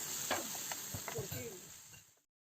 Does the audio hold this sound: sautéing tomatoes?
yes